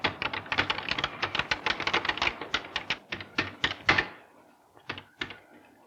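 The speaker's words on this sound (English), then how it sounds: "You talk to the computer by typing things on this keyboard." Rapid keystrokes clatter on a computer keyboard, a dense run of close, crisp clicks that slows to a few spaced taps after a short pause.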